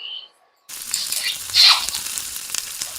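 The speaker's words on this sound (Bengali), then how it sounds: "এটা আমি এবার কিছুক্ষণের জন্য ফুটতে দেবো।" Chicken with spices cooks in a pan as water and masala are added, a loud bubbling sizzle that starts abruptly after a short silence and continues steadily, with a brief louder hissing flare partway through.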